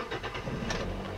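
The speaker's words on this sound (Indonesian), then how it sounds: "Kita nyalakan dulu mesinnya ya." A 2012 Toyota Yaris S TRD with manual transmission cranks and starts, a rough mid-pitched engine catch settling into a steady idle, close and continuous with no talk.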